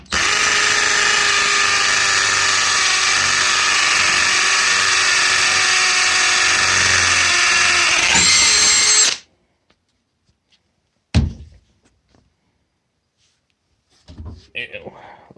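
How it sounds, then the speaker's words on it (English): A Bauer 20V cordless hammer drill whines loudly and steadily for several seconds drilling a hole, then stops abruptly, followed by a sharp clatter and faint rattling. "let's see how quickly, I guess, he'll drill this hole"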